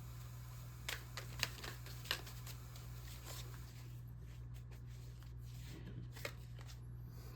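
Tarot cards being shuffled in a quiet room over a steady low electrical hum, with a few sharp riffling snaps early on and softer card flicks later, no talking.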